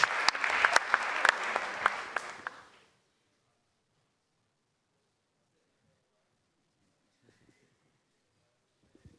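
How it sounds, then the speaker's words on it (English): Applause from an audience at a senior high school renewable energy challenge event, a burst of many hands clapping that rises and fades out over about three seconds, followed by near silence. "Welcome him with a round of applause."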